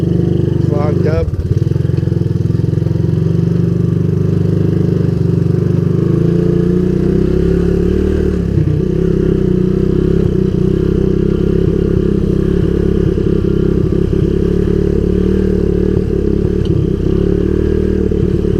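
A Honda ATC200S engine with a clogged carburetor runs loud and close, keeping up a steady rough drone for the whole stretch, with occasional clatter and a brief rev early on.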